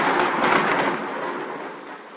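A loud rumble of thunder rolls over steady heavy rain, the crash peaking early and then settling into a lingering downpour hiss.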